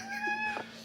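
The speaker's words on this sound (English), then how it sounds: "How about you feed the cat?" A house cat gives a single short, close meow while waiting to be fed, a rising then falling cry heard alone.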